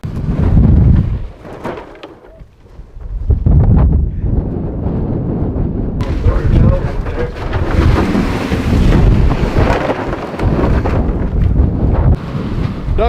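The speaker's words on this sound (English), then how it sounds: "Say something about the hurricane force winds?" Hurricane-force gusty wind batters a microphone during an outdoor duck hunt, loud roaring buffeting that surges and drops in waves, with deep rumbling blasts and near-constant rushing noise; no voices come through.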